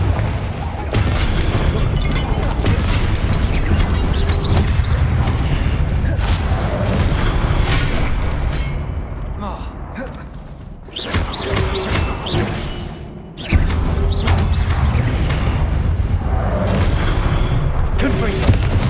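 Loud, booming fire-blast explosions from the Confringo spell in Hogwarts Legacy during a boss fight, heavy repeated blasts with a brief lull midway, while a voice speaks over the combat.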